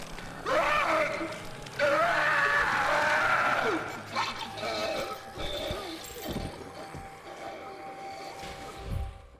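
Dog Day, a mutilated toy character in the horror video game Poppy Playtime, screams and chokes, loud strained vocal cries at first, then wet gurgling and thuds against a murky, rumbling game ambience.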